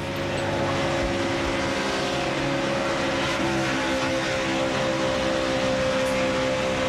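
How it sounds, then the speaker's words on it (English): A NASCAR Nationwide Series race car at Talladega roars at full speed from an on-board position, a loud, steady engine drone with sustained tonal harmonics and no break. "let's take another wild ride and go on board with Trevor Bayne"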